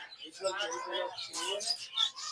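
Pet yellow-sided conures and lovebirds chirp at a bird seller's shop, with bright, overlapping tweets and chatter close by.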